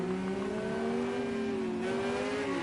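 A Porsche GT3 race car engine drones steadily in a racing video game during a night race at Zolder, its tone rising and dipping slightly through a chicane, loud and close with no talk.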